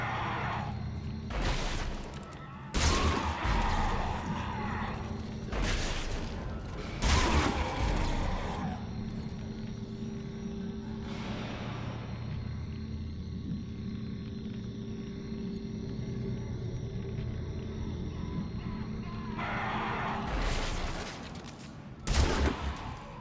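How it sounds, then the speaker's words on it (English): Seeker Rifle shots in Dead Space 2: a handful of sharp, loud reports spaced several seconds apart, each with a brief booming tail, set against a steady low mechanical rumble and creaking ambience. "Get out your trusty Seeker Rifle."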